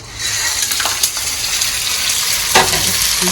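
Vadiyalu sizzle in well-heated oil, a loud, continuous frying crackle close by, with a few sharper pops and bursts standing out.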